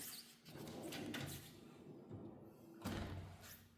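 Drawers of a large roller tool cabinet slide open and shut in a garage, giving a continuous rumbling glide with soft thuds as each drawer stops.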